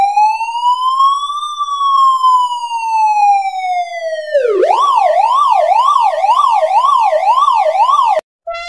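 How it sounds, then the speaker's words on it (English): A police car siren wails in long rising and falling sweeps, then switches to a rapid yelp that cycles quickly, loud and close, ending with a brief cutoff and a short tone. "This is a police car."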